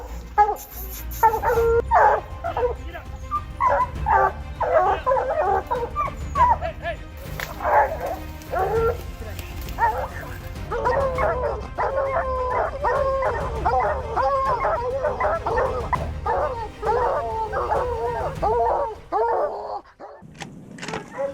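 Bear-hunting dogs bark and whimper with yips and short howls, a busy, sustained chorus at close range, with voices talking intermittently beneath the barking.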